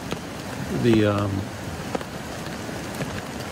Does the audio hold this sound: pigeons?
no